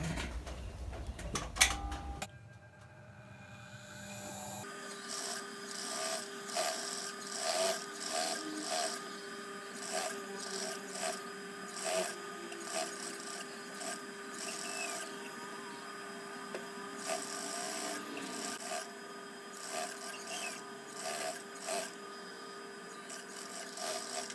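A sewing machine runs a plain edge seam along a shirt neckline, with a steady close mechanical whir and rapid needle clatter. It starts after a few brief knocks and keeps going softly with no talking.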